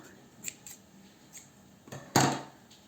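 Scissors snip off crochet yarn tails on a cat bowtie, giving one sharp, close cut near the end, preceded by a few faint clicks and handling noises in a quiet room.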